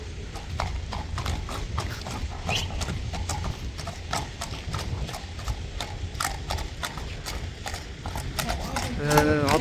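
Hooves of a tall horse clip-clop in a steady, close rhythm over the whole stretch, with a faint mechanical rattle and a brief whinny-like sound near the end; a voice talks quietly under it.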